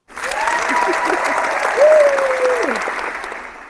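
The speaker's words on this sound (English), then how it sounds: "Let me give you a hand clap." Sustained applause-like clapping runs through the whole stretch, fairly loud and even, while a voice rises and falls over it in the middle.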